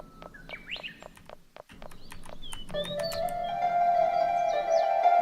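Chirping bird calls from an indie JRPG, several short tweets and whistles over soft ambient music, with a sustained tone entering midway and continuing to the end.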